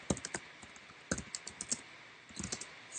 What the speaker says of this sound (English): So I'm going to write something like vintage camper rentals